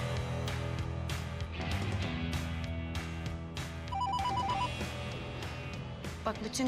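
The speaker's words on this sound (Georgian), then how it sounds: "ახლა რეკავენ" A telephone rings with an incoming call in a home, its ringtone repeating over background music and room sound, with no one speaking.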